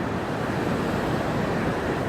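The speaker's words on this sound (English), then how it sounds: "The water's flowing freely, not really trying to destroy the canyon" Water rushes freely through a breached natural dam in a canyon, a steady dense roar with no breaks, close and loud.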